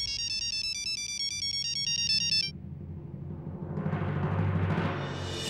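A bright electronic mobile phone ringtone melody plays loudly for a couple of seconds, then cuts off, leaving muffled background noise that gradually swells.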